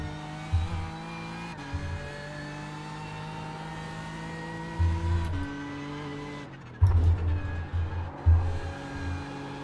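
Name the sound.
race car spinning out in an N24 racing video game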